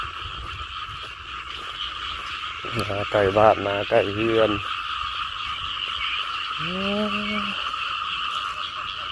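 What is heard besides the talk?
frogs croaking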